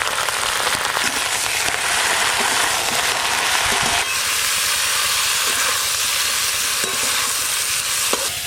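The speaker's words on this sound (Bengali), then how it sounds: "খুব ভালো করে ফুলকপিগুলো ভেজে নেব" Cauliflower frying in hot oil gives a loud, dense, continuous sizzle and hiss, with a few scraping stirs and small crackles breaking through; no talking.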